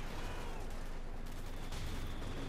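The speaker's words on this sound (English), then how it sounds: "Grenades, there we go, goes off." Grenade explosions in a Company of Heroes 2 match between OKW and USF forces, a dense, continuous battle rumble of blasts and gunfire without any clear separate bang.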